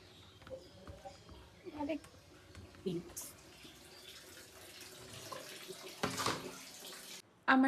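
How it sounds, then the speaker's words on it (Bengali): Water runs from a tap in a home bathroom during a morning bath, a steady hiss that swells with a louder gush near the end, broken by scattered splashes, clunks and faint voice sounds. "আজ আমি সকাল সকাল যাচ্ছি এখন স্নান করতে"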